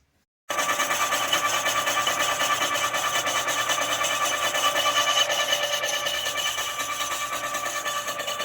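A cylinder boring machine cuts the cylinders of a Honda CB 400 engine, starting after a brief silence and then holding a steady, bright mechanical whine at an even level with no talking.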